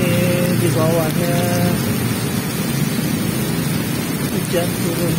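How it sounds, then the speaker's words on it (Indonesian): Rain falling in Jakarta near a flyover, a steady loud wash of noise with traffic mixed in and a person talking over it. "hujan turun tapi airnya di atas bawah flyover ada celah"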